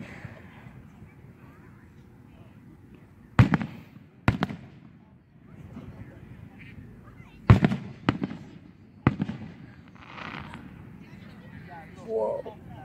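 Several fireworks bursting near a fairground-style neighborhood display, sharp loud booms in irregular pairs with crackle and echo, some quite close, with people talking in between.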